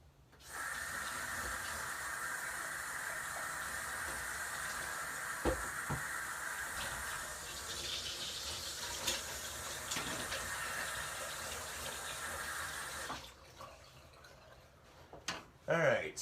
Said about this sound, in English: I'm gonna add some water to the top of it real quick.